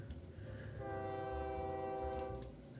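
A train in the OpenTTD video game sounds a sustained horn chord over a low rumbling rail background, steady and fairly quiet, lasting a couple of seconds with a few faint clicks.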